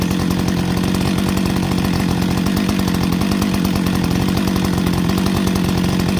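A newly replaced gas-powered chainsaw runs steadily at idle and mid throttle, a loud, continuous buzzing engine drone with a rapid pulsing beat throughout, close to the microphone and with no talking.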